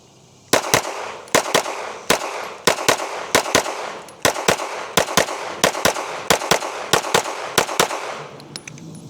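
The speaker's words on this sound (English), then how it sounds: "We're gonna do a first magazine with the factory recoil spring in here." A handgun fired through a full magazine with its factory recoil spring: about fourteen loud, sharp reports at a steady, deliberate pace roughly every half second, each with a short echoing tail, outdoors at a range with no talking.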